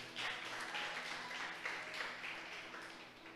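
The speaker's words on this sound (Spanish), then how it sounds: "Y le damos un aplauso a nuestro Señor Jesucristo" A church congregation claps together during a worship service, a spirited, fairly even burst of applause with a sustained tone beneath it that rises and dips over a few seconds.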